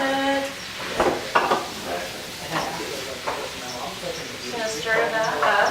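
A spoon stirs food in a hot, sizzling pan during a cooking segment, with steady frying hiss and scraping knocks against the pan, while a voice talks over it.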